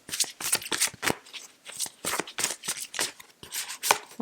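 Sacred Power reading cards are shuffled and drawn for a tarot reading, giving a quick run of crisp riffling flutters and papery slaps that are close and repeat with no talk.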